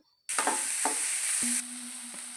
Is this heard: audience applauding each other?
no